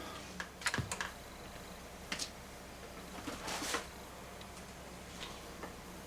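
Keys are pressed on a Japanese computer keyboard with kana keys, function keys and a keypad, giving a few scattered, faint clicks and taps with a short cluster of keystrokes, quiet and close.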